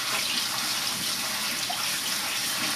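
Tap water pours steadily over organic Brussels sprouts being rinsed, a continuous close splashing rush with no pauses.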